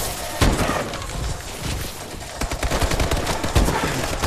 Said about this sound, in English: And I'm using a fucking sniper.